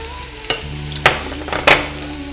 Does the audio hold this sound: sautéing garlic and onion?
yes